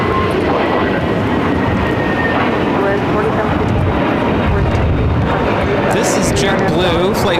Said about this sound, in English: JetBlue, flight 524, taking off to JFK on the A321neo.